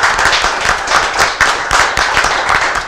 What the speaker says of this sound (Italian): un applauso a tutti voi e a me che sono bravissimo